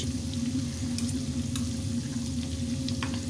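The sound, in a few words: chopped onion frying and being stirred in potato filling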